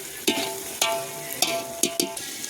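A spoon stirs tomato and garlic tempering in a hot pan, giving several sharp scraping strokes at an uneven pace over a constant low sizzle, close up with no voices.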